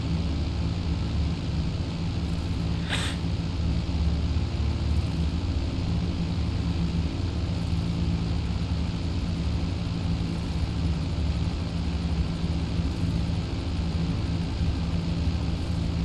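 A Titan cargo plane flies in GTA 5 Online, its steady propeller engine drone filling the whole stretch at an even level, with a faint brief high whine near the start and no voices.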